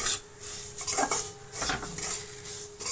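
A spoon scrapes and stirs semolina with freshly grated coconut in a pan for coconut laddu, making repeated gritty rubbing strokes with light metallic contact over a faint sizzle, close and with no voices.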